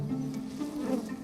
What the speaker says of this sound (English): The smoke helps to calm the bees.